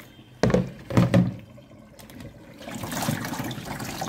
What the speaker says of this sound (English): I have to pour water.